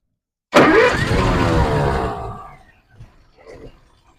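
A 1937 Packard Super 8 Saloon straight-eight engine cranks and fires at once into a loud, close roar, holds for about two seconds, then drops away to a quieter rumble with a few small blips.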